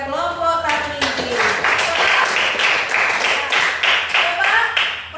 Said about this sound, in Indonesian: Kita beri aplaus dulu kepada kelompok Tarmizi.